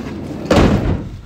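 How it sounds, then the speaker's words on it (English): Side sliding door on a 2016 VW Crafter 2.0 TDI high-roof van rolls and latches with one solid metallic slam midway, preceded by quieter handling noise and followed by a fading rumble. "So that opens easily and latches without problem, as you can see."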